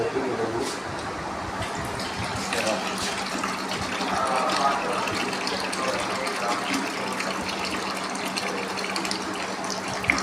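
A mix of sulfuric acid and distilled water is poured into an inverter battery, giving a continuous gushing, gurgling flow of liquid that runs for about ten seconds, with faint voices in the background.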